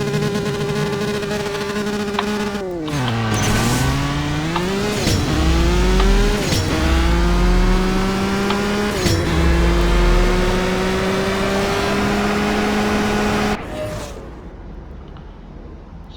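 Ferrari F12berlinetta V12 engine in the CSR Racing 2 racing game screaming through a sprint, with sharp revving climbs, quick gear-change drops and a loud sustained whine before cutting off near the end.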